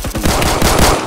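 Rapid automatic gunfire in the Roblox shooter Phantom Forces, a loud, close burst of quick repeating shots lasting about a second.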